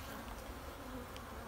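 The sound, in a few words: honey bees buzzing in a hive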